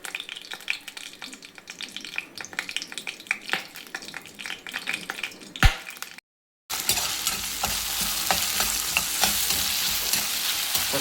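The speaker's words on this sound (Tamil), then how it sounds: "நல்லா கடுகும் பொரிஞ்சோன்னே உளுந்தம்பருப்பும் நல்லா செவந்தோன்னே நம்ம வெங்காயமும் தக்காளியும் போட போகிறோம்." Mustard seeds, urad dal, onion and tomato fry in hot oil for an ivy gourd stir-fry, a crackling sizzle with stirring clinks that cuts out briefly, then returns as a loud, steady hiss.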